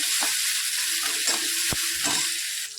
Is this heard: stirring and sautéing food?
yes